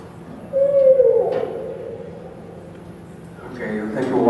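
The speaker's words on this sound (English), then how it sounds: "This is an owl at 3 o'clock in the morning." An owl hoots in a nighttime field recording made around 3 a.m., with a low call around one second and another hooting burst near the end, faint and over steady background hiss.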